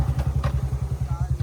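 A motorcycle engine on a rough, bumpy forest path toward a waterfall chugs with a steady, close, pulsing low thump, and a voice is briefly heard over it.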